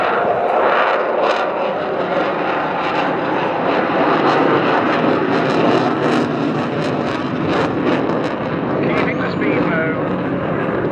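A canard-equipped aircraft flies aerobatics at the English Riviera Airshow 2024 at around 110 knots, its engine a loud, steady roar throughout while a commentator talks over it.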